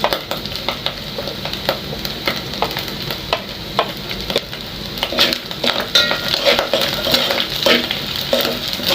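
Onions and minced meat cook in a pan, giving a steady sizzle broken by repeated scrapes and clinks of a stirring utensil, close and fairly loud throughout.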